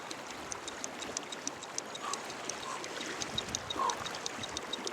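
River water flowing steadily with a soft, continuous wash and small bright ticks and trickles, moderately faint and close, with no voices.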